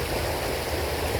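Steady rushing water of a stream flowing close by, an even broadband wash with no voices, continuous and moderately loud throughout.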